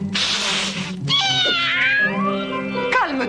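A cat meows and yowls in several drawn-out, wavering cries, loud and close, after a burst of hissy noise, in a French animated episode.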